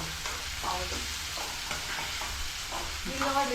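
Food for a home tiffin fries in a pan while being stirred, with a constant close sizzle overlaid by repeated scraping strokes of a spatula and a louder stir near the end, no talking.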